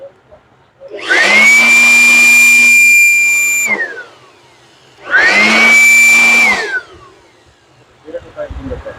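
A Blue-R vacuum cleaner switches on twice with a loud, steady motor whine and a high tonal hum. Each run lasts a few seconds and cuts off sharply, and faint handling noise follows.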